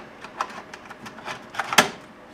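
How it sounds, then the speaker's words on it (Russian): A floppy disk drive reads a diskette while Windows XP setup runs, giving a string of quick mechanical ticks and seeks with one sharper clack near the end. "происходит считывание уже с пятой дискеты"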